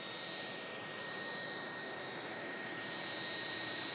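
A Jet2 Boeing 757 under tow on a slow taxi at Manchester Airport after a hydraulic fluid emergency, a steady, even jet roar with a thin high whine holding throughout.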